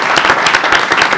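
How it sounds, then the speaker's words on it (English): Applause from the audience at a school board meeting honoring a student's scholarship achievements, a brief steady burst of many hands clapping, fairly loud and close, with no talk over it. "How about a round of applause for those"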